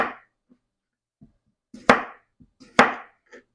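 A knife slices vegetables thinly on a cutting board for a ground beef vegetable casserole, giving a few sharp, close chops spaced out with quiet gaps and softer taps between them.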